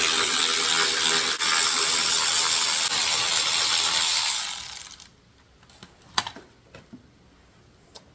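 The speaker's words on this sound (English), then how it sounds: "we're going to need an 8mm wrench or an 8mm socket in order to be able to get access to these 3 screws here" Rapid ratcheting clicks from an 8mm socket ratchet loosening the air box screws on a Craftsman push mower fill the first five seconds, close and steady, then give way to a few scattered clicks and clunks.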